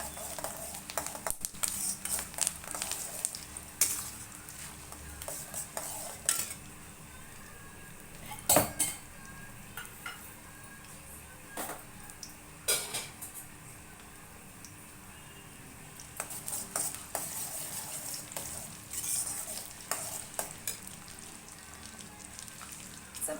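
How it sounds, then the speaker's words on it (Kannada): Curry leaves and chana dal frying in hot oil for heralekai chitranna, a faint spluttering sizzle broken by repeated metallic clinks and knocks of a spoon against the pan. "ಈ ಟೈಮಲ್ಲಿ ನಾನು ಕರ್ಬೇವಿನ ಸೊಪ್ಪು ಹಾಕ್ತೀನಿ ಮತ್ತೆ ಒಂದು ಕಡಲೆ ಬೇಳೆ ಸೇರಿಸ್ತೀನಿ"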